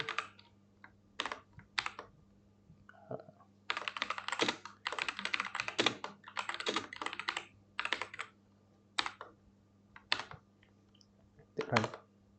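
Code is typed on a computer keyboard in Jupyter Notebook, with bursts of quick, close key clicks separated by short pauses and a low steady hum underneath.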